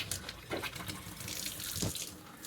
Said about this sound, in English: you can see that the first bits of air are coming out, but there's still a little bit of water.